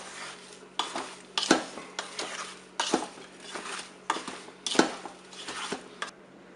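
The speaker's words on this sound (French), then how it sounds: "on va remuer de temps en temps jusqu'à l'ébullition" A spoon stirs apple-strawberry jam in a Cookeo multicooker pot, with repeated scraping and clinking strokes against the metal bowl over a low steady hum, close and fairly quiet.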